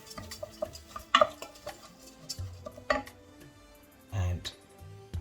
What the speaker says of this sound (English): just to mix gently